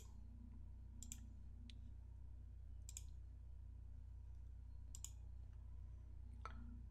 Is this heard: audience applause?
no